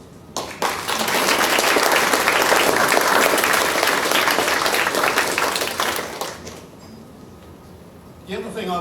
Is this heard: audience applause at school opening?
yes